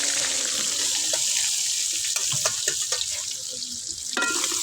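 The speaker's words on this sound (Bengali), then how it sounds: "আলুগুলো আমরা বেজে নিচ্ছি" Potatoes with a little turmeric fry in a pan in a village kitchen, with a hissing sizzle under scattered clatters and scrapes of a stirring utensil.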